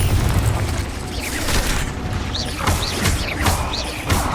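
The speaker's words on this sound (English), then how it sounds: "Confringo." Booming blasts of the Confringo explosion spell in Hogwarts Legacy, several loud crashing impacts in quick succession with rumbling, crackling debris over about four seconds.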